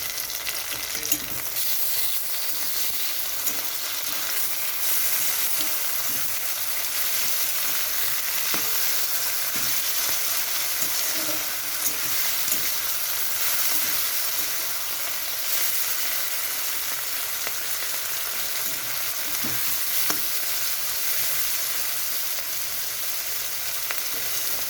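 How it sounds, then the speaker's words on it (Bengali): Prawns fry with onion, garlic and spices in a pan, a loud, continuous close sizzle with occasional stirring scrapes lasting the whole stretch, with no voices over it. "তো এরকমভাবে ভেজে নিতে হবে সব মশলা। তো এখানে মশলাগুলো সব ভাজা হয়ে গেছে, চিংড়ি মাছটাও ভাজা হয়ে গেছে।"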